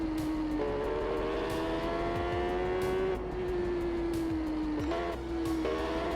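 Supersport motorcycle racing in TT Isle of Man 3, a steady high engine whine holding pitch with gear-shift steps and dips, continuous and close throughout.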